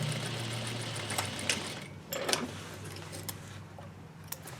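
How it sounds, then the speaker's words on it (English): A sewing machine back tacking a belt loop onto denim jeans, giving a close, fast mechanical whir with ticking stitches that briefly slows and restarts. "where a belt loop is concerned, I like to back tack it for durability's sake"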